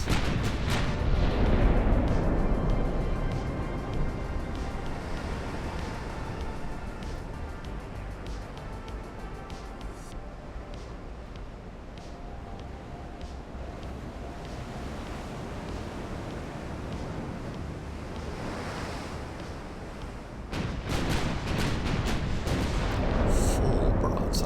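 A naval artillery broadside rolls out in the naval warfare game Ultimate Admiral: Dreadnoughts, with deep booming gunfire and long rumbling echoes over wind and sea noise, and a fresh heavy volley near the end.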